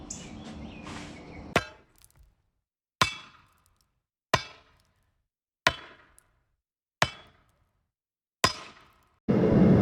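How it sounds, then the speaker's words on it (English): Hammer blows strike a steel file being forged into a knife: six sharp, ringing metallic impacts spaced about a second and a half apart, each decaying quickly into silence, with some shop noise before the first and after the last. "That's what this first hammer blow was determining those places."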